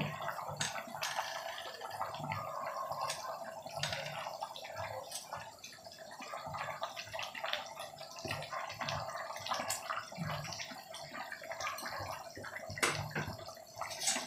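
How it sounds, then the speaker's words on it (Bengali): Spicy snakehead fish curry gravy boils in a pan with soft, continuous bubbling and scattered small pops and drips, quiet and close, with no one speaking. "তরকারিটা দেখুন ফুটে উঠেছে"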